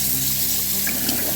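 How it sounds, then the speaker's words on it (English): Dishwasher draining its water during a vinegar deep clean, a steady rushing, gurgling flow with a pump-like hum, loud and close and unbroken for the whole short stretch. "Let the water out, let it drain"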